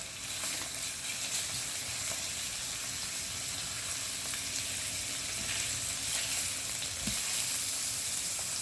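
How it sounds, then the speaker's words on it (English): Beef steaks brown in a hot pan with an even, close hiss of sizzling fat that runs unbroken, with a soft knock or two and no talking. "I'm going to start browning off these steaks. And all I want to do is just brown them on both sides"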